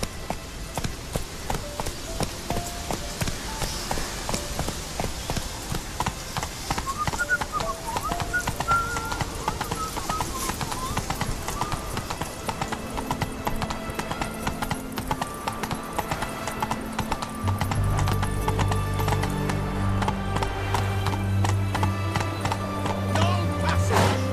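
Roach, the horse in The Witcher 3 video game, gallops with a steady, rapid clip-clop of hooves, close and continuous, while sustained music swells beneath it toward the end.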